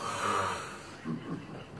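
A voice imitating snoring, a few drawn-out snorting breaths that are soft and close, with faint background noise.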